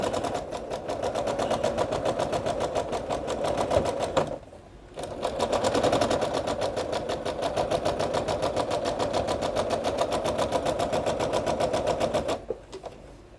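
A sewing machine stitches fabric squares with a fast, steady mechanical chatter, close and continuous. One brief pause breaks the run partway through, and the stitching stops near the end.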